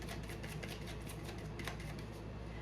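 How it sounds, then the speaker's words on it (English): Tarot cards being shuffled, a quick run of crisp riffling snaps over a faint steady room hum, close and fairly quiet, with no voices. "I'm gonna go ahead and shuffle these."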